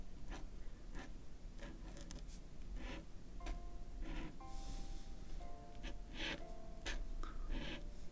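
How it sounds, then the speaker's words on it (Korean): Pen strokes of hand calligraphy on black paper, a quiet, close scratching and tapping with irregular short bursts as letters are formed, over a faint steady hiss with some soft tonal background. "밑에다가 글씨 써볼게요"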